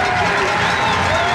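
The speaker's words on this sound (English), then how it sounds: "Gator fans now going to cheer on the D" Gator football fans in a packed high school stadium roar continuously in support of their defense, a loud, dense crowd cheer with no breaks.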